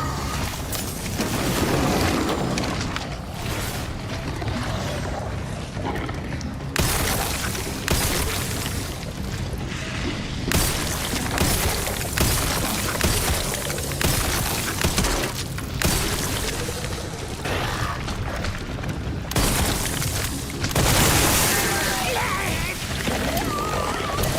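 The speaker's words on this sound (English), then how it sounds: "You can't parry explosions?" Explosions in the video game Resident Evil 9, dense bursts of booming and crashing debris in a chaotic, continuous barrage with speech-like sounds mixed in throughout.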